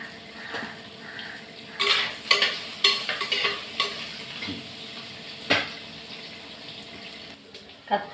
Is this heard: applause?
no